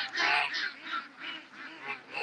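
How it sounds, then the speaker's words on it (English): Several ducks or geese quacking and honking in repeated bursts, a busy flock heard at moderate distance with no speech over it. "The little ducks."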